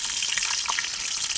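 Onions fry in hot oil with cinnamon, cloves, cardamom and bay leaf for a 1 kg chicken biryani, a soft, continuous sizzle and crackle at low level with no voices.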